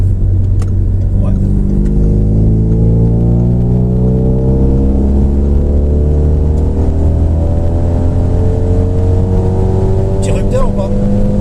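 A car driving on a road and overtaking, its engine droning steadily up through the gears with rising and falling pitch, loud and close, under continuous road and cabin noise.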